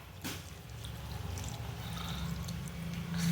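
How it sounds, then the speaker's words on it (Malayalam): Water poured into a pot of avial with vegetables, salt and chili powder, a soft low steady trickle that swells slightly toward the end, faint and close with no talking. "ഇനി നമുക്ക് വെള്ളം കൂടി ഒഴിക്കാം"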